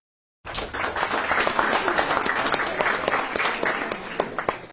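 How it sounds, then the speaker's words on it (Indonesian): A crowd bursts into applause for a guest speaker: after a brief silence, many hands clap at once in a busy, even wash with sharp individual claps standing out, continuing to the end. "Tepuk tangan virtual dong untuk beliau."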